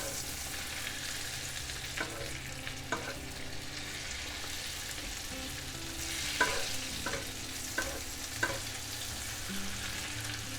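A chicken ballotine fries in foaming butter in a pan, giving a steady close sizzle, with occasional soft clinks and scrapes as butter is spooned over it.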